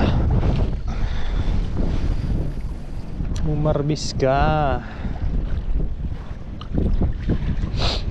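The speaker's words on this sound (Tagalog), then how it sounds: "Pasensya na po sa lakas ng hangin." Strong beach wind buffets the microphone in a steady, loud roar throughout, while someone speaks briefly in the middle.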